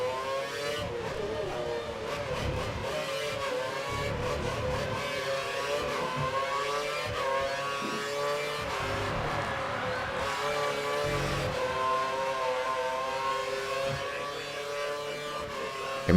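Formula 1 race car engines from F1 2013 at the night race in Singapore drone steadily through the whole stretch, a dense, continuous buzz of several cars with shifting pitch, no talking over it.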